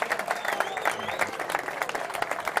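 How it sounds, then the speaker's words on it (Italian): An audience at an amateur football awards gala applauds a guest called up on stage, with brisk clapping of moderate loudness and some overlapping voices. "vi chiedo un applauso."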